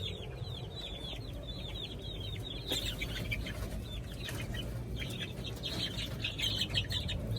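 Young week-old chicks with fowl pox chirp and peep continuously up close, a busy overlapping chorus of high calls with a few clucks, alone without talk.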